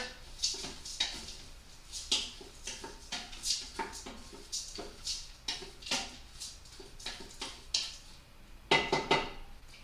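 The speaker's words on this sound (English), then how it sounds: "Give everything a good stir." Dry white rice being stirred in a pot, with a spoon scraping and knocking against the metal in an irregular rhythm of close clinks and rattles.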